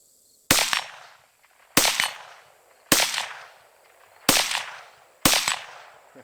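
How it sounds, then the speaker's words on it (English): Five sharp .22 Magnum shots from a Rossi RS22M rifle at steel targets outdoors, evenly spaced about a second apart, each a loud crack with a short ringing decay. "Alright, 5 shots on steel."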